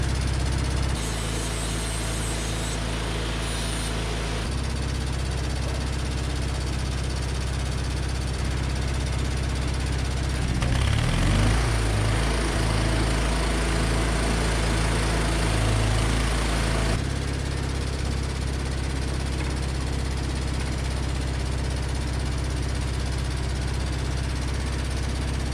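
A grinder with a clean disc scrubs aluminum before stick welding, a loud continuous motor drone with abrasive hiss and shifting tone as it bears on the metal, running steadily throughout.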